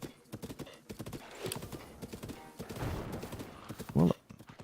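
Horse hooves clip-clop in a steady trotting rhythm inside the Breath of the Wild video game, close and clear, with a player talking over much of it and a louder thump near the end.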